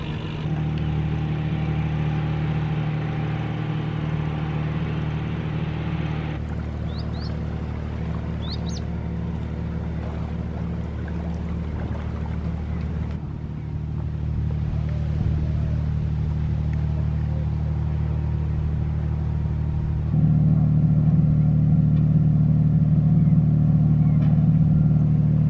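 Engines idle at a ferry crossing while waiting vehicles and the ferry give off a continuous low rumble. The drone grows louder and heavier near the end, and a few faint bird chirps sound in the background.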